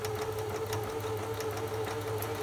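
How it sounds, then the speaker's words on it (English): A sewing machine stitching appliqué runs at a steady, continuous hum with a fine rhythmic needle chatter throughout, close and moderately loud with no talking. "foot onto your foot pedal, and you can carry on stitching"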